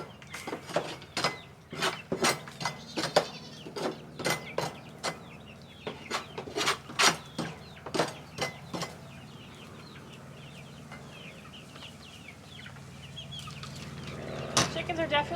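Backyard chickens cluck in a steady run of sharp, evenly spaced clucks at close range, with soft ambient noise and a brief low voice near the end.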